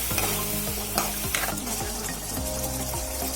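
Yogurt goes into spices frying in a pan, giving a continuous close sizzle with rhythmic scraping strokes of a spoon stirring the mixture.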